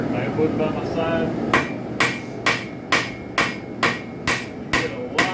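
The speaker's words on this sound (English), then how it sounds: "You get a lot of power out of this hammer just by bringing it up high and driving it down." Rapid hammer blows ring out sharply on metal as a spike knife is forged, about nine evenly timed strikes close by, with a voice talking just before they begin.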